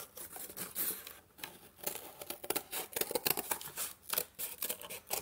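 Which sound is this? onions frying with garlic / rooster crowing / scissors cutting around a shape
scissors cutting around a shape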